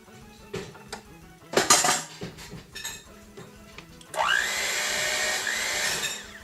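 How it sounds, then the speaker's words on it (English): Dishes and utensils clatter close by, then an electric mixer starts up and runs with a steady whir, beating cookie dough of shortening and butter until creamy. "Here's the mixer."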